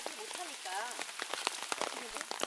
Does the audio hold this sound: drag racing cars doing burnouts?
no